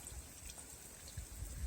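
Soft, steady rain patters and trickles at low volume, a continuous wash of drops with no voices.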